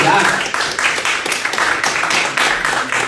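A church congregation breaks into loud, sustained applause, a dense crackle of many hands clapping close by with a steady, even texture throughout.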